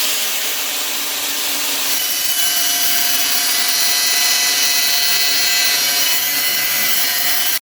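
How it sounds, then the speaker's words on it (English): An angle grinder with a cut-off wheel slices through a piece of steel for boat trailer fenders. It gives a loud, steady, harsh abrasive whine that holds unbroken for several seconds, with no voices. "I'm going to take a trusty grinder with a cut-off wheel and cut this piece."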